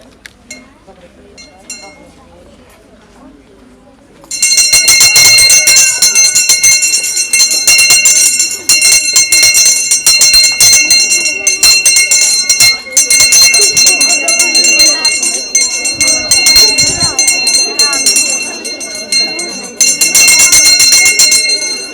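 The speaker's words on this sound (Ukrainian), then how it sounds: "дати перший дзвінок у 24-25 навчальному році" A school's first bell of the 2024-25 school year rings at a Gymnasium No. 4 first-of-September ceremony: after a few quiet seconds with faint voices, a loud, continuous electric ringing starts and carries on to the end with only brief breaks.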